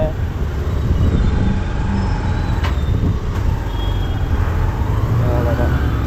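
Bus on a Goa trip rumbling as it slows to a halt, with steady low engine drone, a couple of short sharp brake hisses, and passengers talking over it.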